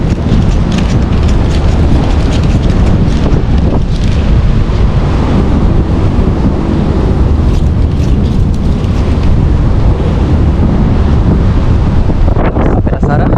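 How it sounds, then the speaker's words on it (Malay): Strong wind buffets the microphone in a loud, continuous roar beside the sea under a bridge on Penang, with a faint wash of waves beneath, steady throughout. "Oh, kuat angin petang ni."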